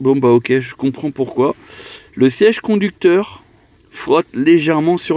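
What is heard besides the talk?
No everyday noise stands out behind the speech.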